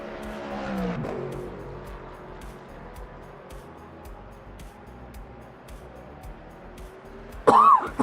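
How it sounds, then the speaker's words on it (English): A person coughs harshly once, then again later in a loud burst, over the low, continuous engine drone of a Le Mans Ultimate racing game. "this bloody cough is really starting to get on my nerves"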